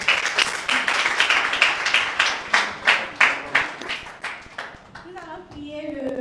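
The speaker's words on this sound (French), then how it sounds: "Acclamez très fort." Rhythmic, fairly loud clapping from a television studio audience at a children's eloquence contest, in a steady unison beat that fades into a few voices and scattered claps.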